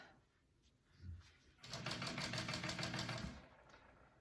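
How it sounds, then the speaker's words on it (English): A sewing machine top stitches with 69 dark gray thread on a backpack piece, a short rapid burst of stitching of about two seconds, quiet and close, preceded by faint handling sounds. "And I'm just top stitching this piece down."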